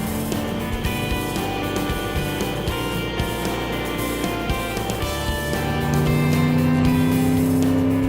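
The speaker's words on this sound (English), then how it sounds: "This thing's motoring along, no problem so far." Supercharged Ford Thunderbird cruising a cold winter road, its engine a steady drone heard from inside the car with constant road and wind noise, the pitch rising slightly near the end.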